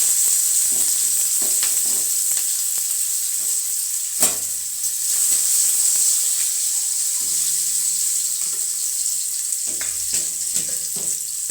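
Steady hiss of onions frying in hot oil in a heated wok fills the clip, with occasional clinks and stirring knocks from the pan.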